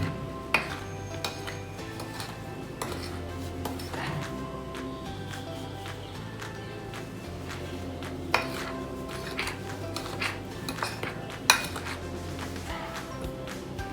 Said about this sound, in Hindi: अच्छे से शक्कर को मिक्स करना है इस आटे में।